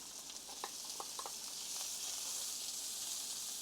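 Bacon and onion frying in a pan over medium heat, a steady bright sizzle and hiss with a few soft pops and stirring sounds, close and unbroken.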